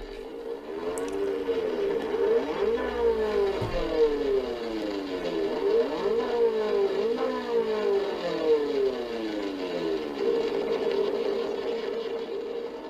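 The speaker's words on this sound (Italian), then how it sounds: "una clip audio viscerale di un motore da corsa Cosworth" A Cosworth racing engine in the GTR Revival sim racing game revs up and down in repeated rising and falling sweeps, a steady buzzing high-pitched whine that runs continuously and loudly with no talking.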